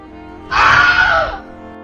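A single loud, famous film scream sound effect: a sharp, anguished human cry lasting under a second, played alone and close.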